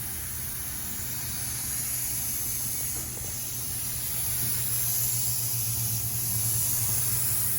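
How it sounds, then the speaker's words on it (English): Primer sprays from a can onto body filler on a car, a continuous close hiss that runs steadily throughout with slight swells as the spray sweeps back and forth. "go ahead and spray this primer on here."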